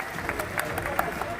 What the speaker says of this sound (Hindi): तालियों के साथ इन सबका जोरदार स्वागत भी आप लोग करें